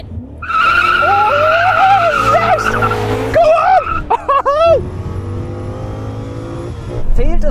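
BMW M5 cars of several generations launching side by side in a drag race, engines roaring loudly with sustained tire skidding and squeal, rising revs, then a whine of gear changes as they pull away, with a voice briefly heard.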